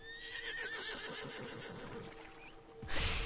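A horse whinnies in the Red Dead Online game, a wavering high neigh rising and falling over roughly three seconds, moderately loud, followed by a brief burst of noise at the end.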